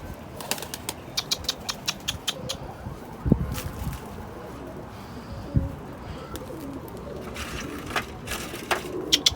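Pigeons coo repeatedly close by while wings flap in sharp bursts, with occasional louder thumps and rustles against an outdoor background.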